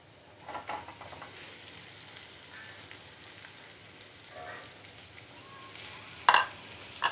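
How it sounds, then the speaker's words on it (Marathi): Boiled, peeled and chopped potato goes into a pan for a Marathi-style potato bhaji and fries with a steady low sizzle, a brief clatter near the end, no voices. "हा बटाटा उकडून सालं काढून चिरून घेतलेला आहे तो घालूया"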